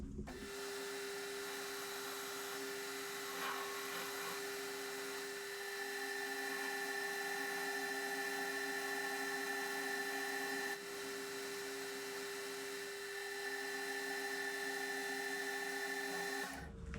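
A metal lathe machines a part for a bandsaw repair, producing a steady, continuous whine and hum that runs unbroken at an even level for the whole stretch, with no voices.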